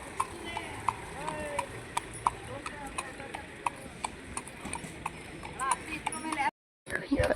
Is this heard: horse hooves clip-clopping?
yes